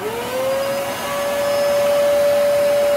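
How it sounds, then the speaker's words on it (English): Vacuum cleaner running as a load on an EG4 6500 inverter/generator setup alongside a well pump, a loud steady whine with a sustained motor tone rising slightly in pitch as it spins up, no voices. "Now let's turn on the vacuum."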